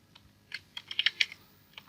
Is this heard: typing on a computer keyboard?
yes